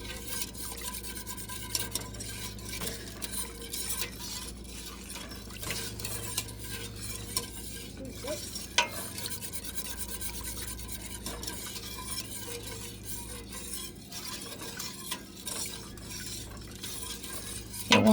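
Milk is stirred into a pan of gravy on a stove for an Appalachian breakfast, soft scraping and swishing of a utensil against the pan over a low simmering sizzle, with occasional metallic clinks and no talking.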